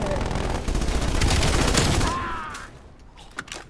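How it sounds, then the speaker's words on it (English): Enemy sentry turret in Call of Duty Cold War firing a loud, sustained rattle of rapid shots for about two seconds, then tapering off, with a voice talking under the gunfire. "Oh no, that's a turret."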